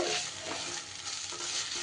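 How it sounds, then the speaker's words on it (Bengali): Boiled pumpkin leaves with onion and garlic are stir-fried in a pan over a low-to-medium gas flame, giving a soft, continuous sizzle with gentle stirring, fairly quiet and close, no voices. "এইবার ভালো করে নাড়িয়ে চাড়িয়ে একটু ভাজা ভাজা করে নিতে হবে"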